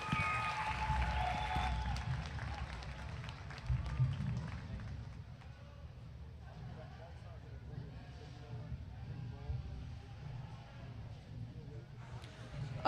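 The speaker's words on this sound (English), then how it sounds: "Let's give them a nice round of applause as they head on out." Audience applause at a market lamb show, a broad, steady clatter of clapping from the crowd with talk over it, strongest at the start and easing into a lighter, sustained patter.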